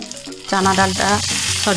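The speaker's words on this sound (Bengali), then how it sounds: "কারি পাতা দিলেই কিন্তু খুব ফুটবে।" Curry leaves dropped into hot oil with mustard seeds and dried chilli give a close, loud burst of sizzling and spluttering, with tonal, voice-like sounds over it.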